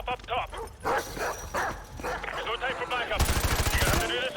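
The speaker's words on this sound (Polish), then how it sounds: "O, wow, psy!" Several dogs bark in sharp, repeated bursts in the video game Call of Duty: Modern Warfare 2 Remastered. A rapid rattle of automatic gunfire joins near the end, and someone talks over the action.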